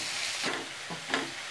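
Chopped onions sautéing in a pan for mutton gravy, a steady soft sizzle with a few brief stirring scrapes, close and fairly quiet, with no talking.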